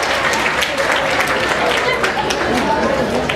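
An audience gives a group a loud, sustained round of clapping at an indoor gathering, with a few voices mixed into the steady applause.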